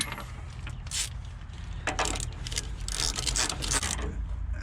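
Ratcheting and wrench clicks tightening strut bolts on a 2016 RAM 1500 4x4 during a leveling strut install, a steady run of close mechanical clicks and scrapes with no talk.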